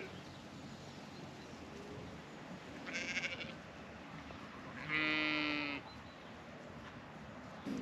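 Two ewe bleats ring out over a steady background hum on a farm, the first shorter and quieter, the second louder and drawn out.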